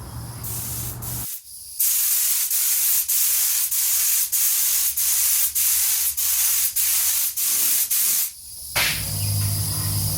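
A spray gun lays a sealer coat onto a wooden nightstand in a series of about eleven short, evenly spaced loud hissing bursts, close to the microphone, between a quieter stretch before and after.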